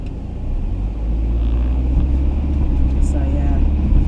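A car driving along a road in thick fog in Blackpool, its steady low engine rumble and road noise continuous and close throughout, with a voice talking over the drive.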